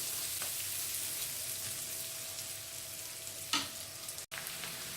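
Onion, garlic, ginger, green chillies and spices sauté in a pan for a Punjabi-style shahi paneer, a steady soft sizzle with a brief scrape of stirring partway through. No voices.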